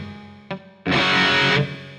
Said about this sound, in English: now it's 712 Bounce Verb Ultra Tap, a boingy reverb that's perfect for adding a real crunch to overdriven guitar